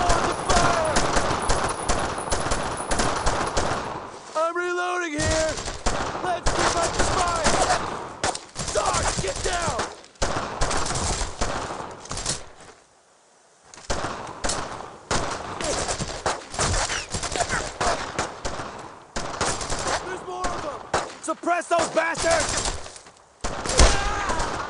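Sustained machine gun fire and scattered gunshots in the World War II video game Brothers in Arms: Road to Hill 30, loud and dense bursts nearly throughout with a brief lull, shouted voices over the battle.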